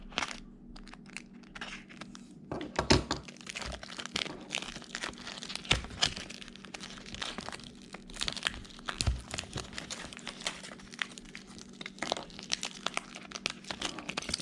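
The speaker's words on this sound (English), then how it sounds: "It's got this sticky packaging that it's really hard to get the jigs out, so I'm just gonna go ahead and cut this off." Sticky plastic packaging around a 320 gram Shimano fishing jig crinkles and crackles steadily as it is cut open close by, in irregular rustling crunches that keep going without pause.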